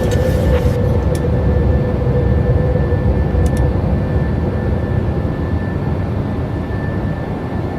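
A PMDG Boeing 737-800 in Microsoft Flight Simulator 2024 roars steadily at takeoff power with a constant broadband jet rush and a faint high whine, loud and unbroken throughout.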